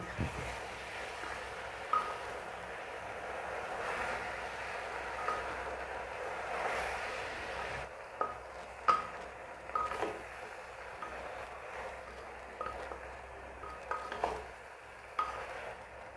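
Taro leaf curry stirred in a pan, with scattered scrapes and taps of a spoon on metal over a low, faint sizzle, close and without voices.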